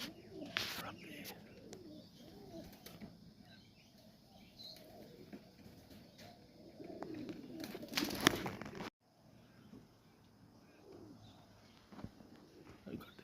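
Pigeons around a loft with soft cooing and a burst of wing flapping near eight seconds, against steady low outdoor background and faint voices.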